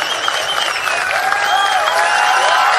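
A large crowd at a political rally in Krishnagiri cheers and applauds steadily and loudly throughout, making a dense, unbroken roar of clapping and voices.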